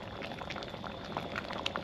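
Beef stew bubbles in a pot, giving a steady close simmering gurgle with small scattered pops and no talking.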